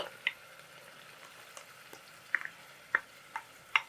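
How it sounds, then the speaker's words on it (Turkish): Green peppers and red kapia peppers fry in a pan with a faint steady sizzle, broken by a few sharp spits and crackles and soft stirring clicks, with no talking. "Şimdi bunun içine yavrum yeşil biberimi ve kapya biberimi de koyuyorum"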